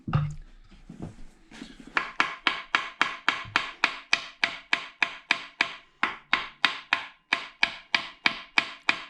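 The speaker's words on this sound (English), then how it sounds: "Maybe tap on the outside of it with a hammer" A hammer taps the outside of a 904 Torqueflite automatic transmission from a 1973 Dodge Dart in a fast, even series of sharp, ringing strikes, about twenty-five blows following a few softer knocks at the start.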